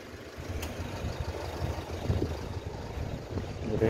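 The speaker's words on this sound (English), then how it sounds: "They have all the long tail boats, a lot of fishing boats also" A long-tail boat engine putters and idles at a distance at Bang Rong Pier, Phuket, Thailand, low and rumbling, with water sloshing and faint wind, no voices.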